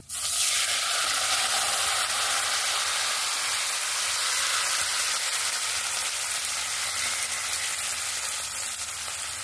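Spices and a Bengali five-spice tempering sizzle and fry steadily in hot oil for a sweet-sour mango pickle, a loud continuous crackling hiss that stays even from start to finish with no talking.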